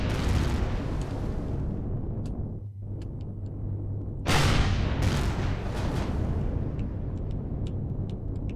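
Explosions and heavy booms in the survival game Empyrion - Galactic Survival, a dense rumbling barrage that drops out briefly and then returns with a loud crackling burst, continuing as steady blasts with sharp clicks on top.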